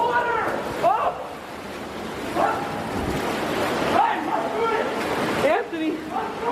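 People run and splash through deep water, with a steady wash of churning noise under excited shouting voices.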